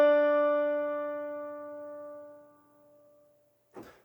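A single sustained concert D is played for a fifth-grade band's C instruments. The clear, pitched tone starts loud and fades smoothly over about two and a half seconds, followed by a brief soft rustle.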